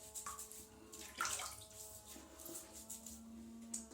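Water splashes and trickles close by as a face is washed and dampened over a basin before wet shaving, with soft irregular splashes and dripping and no talk.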